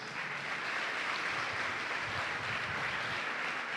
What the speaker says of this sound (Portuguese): Eu quero convidar a igreja a aplaudir a cada uma dessas mulheres.